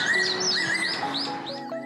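Clear, sweet whistled calls of a fairy pitta ring out in a Jeju forest, a few rising and falling notes repeated close by over a faint steady background, with no talking.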